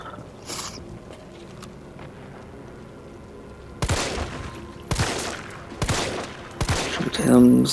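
Gunfire in the video game Resident Evil 3 Remake: four loud, sharp shots spaced about a second apart after a quieter stretch, then a final louder burst near the end, with no talking.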